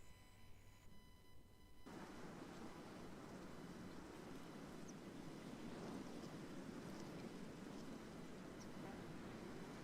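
Windy outdoor ambience sound effect: a broad, steady rushing roar of wind that swells in after a quieter opening and then holds constant, with faint high insect-like tones above it and no voices.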